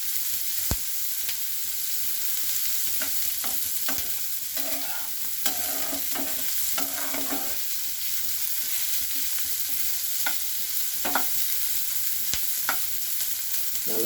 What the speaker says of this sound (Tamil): நல்லா ஃப்ரை பண்ணிக்கிறோம்.